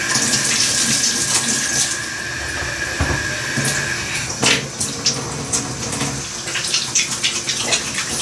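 Water runs from a kitchen tap during hand washing, a steady hiss with irregular splashes and clatters, moderately close, with no speech.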